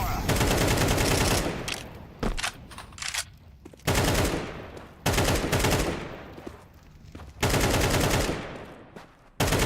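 Bursts of automatic gunfire in Counter-Strike 2 ring out loud and close, three sustained volleys each fading into a short pause before the next.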